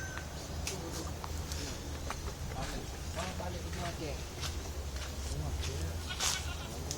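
Several goats, crossbred from native goats with Anglo-Nubians, bleat intermittently, near and far, over a busy background of people talking at a goat farm in Narathiwat.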